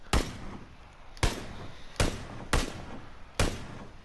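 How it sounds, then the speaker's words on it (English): SKS rifle fired rapidly in PUBG: five sharp, loud gunshots at uneven intervals, each ringing briefly before the next. "Rapid fire the SKS"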